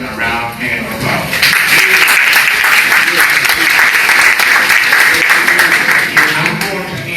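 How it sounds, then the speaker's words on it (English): Loud, full applause from an audience honoring students at a Georgia gathering on historically Black institutions, swelling in after a second and holding steady and dense to the end. "we should give our students a round hand of applause"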